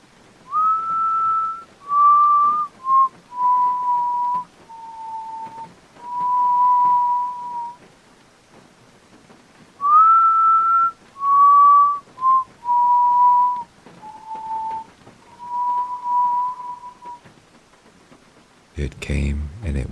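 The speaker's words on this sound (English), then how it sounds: "we heard the whistling" A lone whistled tune of slow falling notes repeats twice at night as a horror story effect, clear and fairly close in near silence, ending with a short burst of noise.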